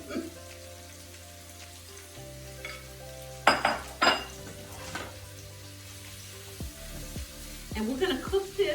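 Hot oil sizzles and crackles steadily in a pan as shrimp cook, with a few louder bursts and clinks of stirring over a low background hum.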